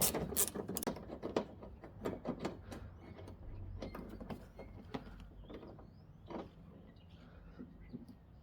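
A ratchet works loose a 10mm nut behind the fender liner of a 2008 Dodge Ram Megacab 5.7L V8 during a headlight replacement, giving a run of close, quick clicking bursts in the first half that thin out later.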